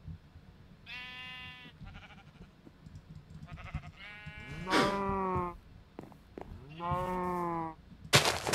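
Minecraft cows moo in a survival world, several drawn-out lowing calls at uneven intervals with short gaps of quiet between them, fairly clear and without talk.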